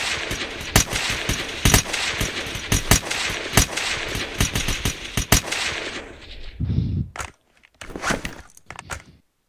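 Video game gunfire at a target 150 studs away: rapid bursts of sharp shots, loud and close, cutting off partway through, then a few scattered softer clicks and handling noises.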